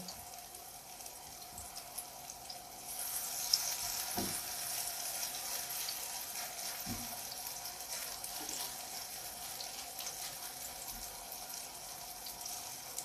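Steady, close sizzling and crackling of chopped chicken fillet cutlets with cheese and herbs frying in a pan, with a couple of soft knocks of utensils, no voices.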